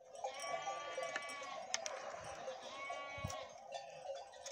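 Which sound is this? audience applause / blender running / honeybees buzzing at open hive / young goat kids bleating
young goat kids bleating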